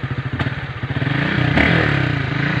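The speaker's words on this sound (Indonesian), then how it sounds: "Saya kesini cuma ngetes motor ini aja" A motorcycle being test-ridden at night on a forest road revs with a pulsing, throbbing exhaust close by, rising into a louder, steadier drone over a few seconds.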